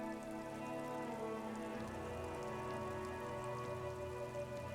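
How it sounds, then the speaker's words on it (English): Rain falls on the city of Revachol in the video game Disco Elysium, a continuous soft patter steady throughout, layered with sustained tonal ambience and no speech. "rain falls on the great city of Revachol"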